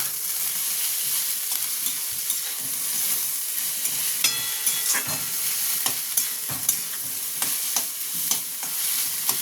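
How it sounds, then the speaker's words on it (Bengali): Grated soybean stirred and fried in a pan while making veg bread chop, a steady close sizzle with repeated scraping strokes of the spatula throughout. "সয়াবিন যেটা গ্রেট করে রেখেছিলাম সেটা দেব। এটাকে ভালো মতন ভাজবো।"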